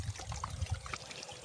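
Water runs steadily out of a pipe from a rooftop tank in a village, a continuous low trickling flow heard close up with no talk over it.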